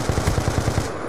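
Automatic weapon fire in a Call of Duty multiplayer match: a rapid, evenly spaced burst of about ten loud, punchy shots, ending abruptly.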